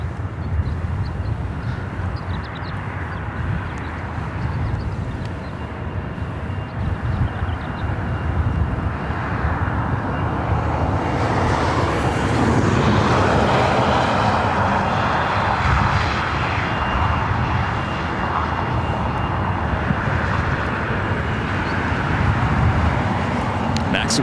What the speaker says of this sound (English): Bravo, Delta Connection, Sky West, Flight 4171, coming up from Boise. It's an E175.